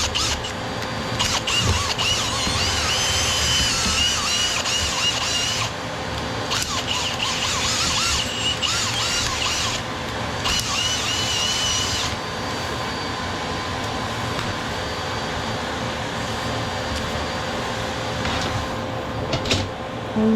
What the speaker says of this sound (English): I switch rotation on the drill, which makes the brush move to different sides of that slightly larger gather area